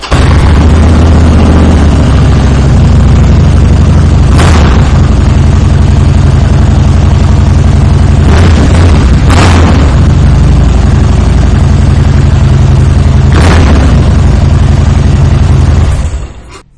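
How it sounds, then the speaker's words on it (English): A 2014 Harley-Davidson Softail Slim with a Screamin' Eagle intake and Vance and Hines exhaust idles loud and close, a deep, lumpy rumble broken by several sharp revving bursts before cutting off at the end. "As I said, and as you can hear, that Vance and Hines sounds amazing on this motorcycle."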